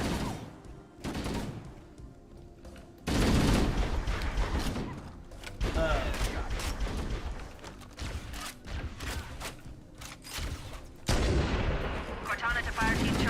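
Gunfire in the Halo video game: repeated loud bursts of rifle and automatic fire in rapid volleys, with heavy blasts around several points, mixed with in-game voices and battle noise.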